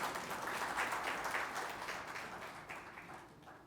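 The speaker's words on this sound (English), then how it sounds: "Please give a big round of applause to him." An audience claps at an industries and SME summit, a dense round of applause that starts full and gradually thins and fades toward the end.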